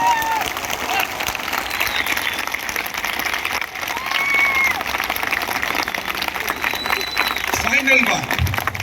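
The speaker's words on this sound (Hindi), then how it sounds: "ये ताली रुकना नहीं चाहिए दोस्तों" Crowd at a 2022 MCD election rally in India applauding and cheering steadily, sustained clapping with scattered whistles and shouts, a voice briefly audible near the end.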